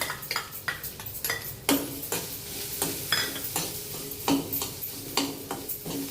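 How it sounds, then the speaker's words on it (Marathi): Grated coconut is stir-roasted in a pan with a faint dry sizzle, broken by repeated scraping strokes and clinks of a spatula against the metal in an irregular, close-up rhythm. "खोबरं चांगलं परतून घ्यायचं आहे"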